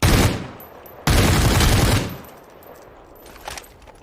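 An MP5 fires in the Super People game: a short loud burst opens, then a longer sustained burst of rapid automatic shots, followed by fainter distant shots amid quieter background noise.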